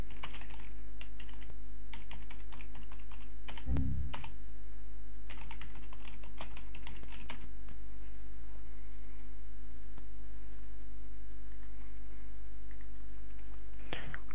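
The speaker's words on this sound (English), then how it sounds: "opening the Run dialog box by going Windows button R, which brings up Run command" Computer keyboard keys pressed as Windows XP shortcuts, such as the Windows key with R, give a few sharp clustered clicks over a constant low mains hum, with sparse quieter taps spread across a long stretch.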